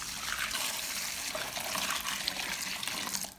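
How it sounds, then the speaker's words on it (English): Water pouring steadily into bowls of fresh cilantro leaves and stems, a continuous close splashing rush without any talk. "Add water to each bowl until the leaves and stems are fully submerged."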